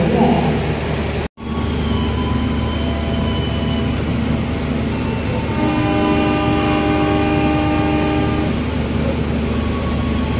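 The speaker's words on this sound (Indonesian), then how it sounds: "Kereta api Progo berangkat dari stasiun Purwokerto pukul" Progo passenger train at Purwokerto station, a loud, steady rumble of the train close by with a sustained horn tone, a brief dropout early on, and a faint voice in the background.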